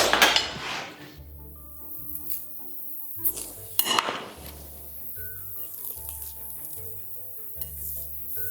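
A spoon scrapes and clinks against a dish of Queen of Puddings, a few sharp metallic taps and scoops separated by quiet pauses, close and soft.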